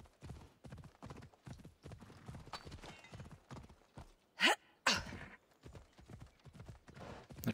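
Horse hooves clip-clop at a fast, regular gallop in Assassin's Creed Odyssey, close and crisp, with a brief snort or whinny-like burst midway.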